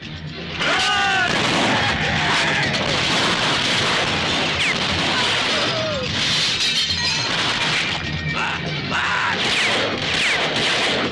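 Gunfire and crashing impacts in a Pawan Kalyan action movie scene, with loud, continuous bursts and shattering debris under brief speech.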